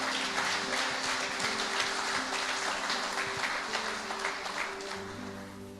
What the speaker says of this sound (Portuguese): Se você acredita, aplauda bem forte Jesus.